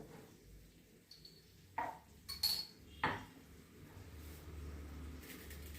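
A microwave bowl being handled in a home kitchen, giving a few separate clinks and knocks of dishware against a quiet background with no talking.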